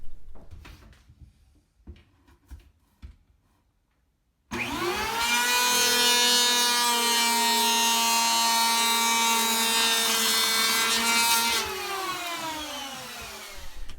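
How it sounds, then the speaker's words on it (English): A Porter-Cable electric hand planer shaves a wood stud while plumbing a shower wall. A few light knocks come first, then the planer spins up into a loud, steady whine for about seven seconds and winds down. "shave that off and make it plumb with the other two sides with my electric hand planer"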